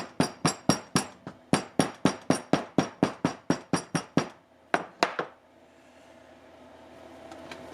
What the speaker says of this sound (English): in the normal forging process, we're just to flatten our billet out nice.